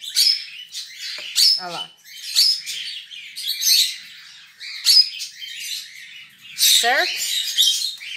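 Pet cockatiels and lovebirds chirp and tweet in short, bright bursts, fairly close, while someone talks over them between calls.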